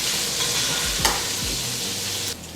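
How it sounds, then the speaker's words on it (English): Raw potatoes dropped into a pot of hot oil for Tuscan soup sizzle steadily, with a brief stirring scrape near the middle; frying hiss stays loud and continuous, then drops slightly at the end. "now I'm gonna add my potatoes right into the pot."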